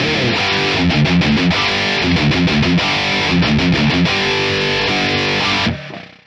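Heavily distorted electric guitar played through a Celestion Creamback H75 cabinet impulse response chugs out rhythmic chords and riffs, loud and dense, then cuts off abruptly near the end.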